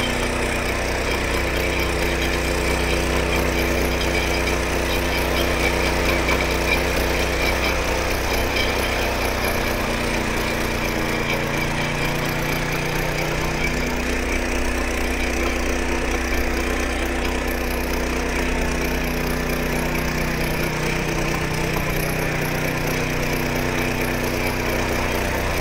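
A Dfarm mini power weeder rotavator runs in second gear, its small engine holding a steady, loud, continuous drone with a rattling rotor throughout, with no talking.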